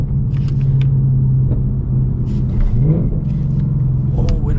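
A 2025 Ford Mustang RTR with a manual gearbox and 800 horsepower rumbles loudly from inside the cabin, its engine note rising and falling through revs and downshifts, with no talk over it.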